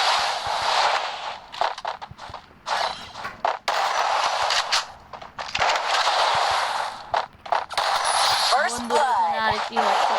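Gunshots from the Free Fire video game crack in uneven bursts and single shots, loud and close, with game effects and a person talking over parts of it.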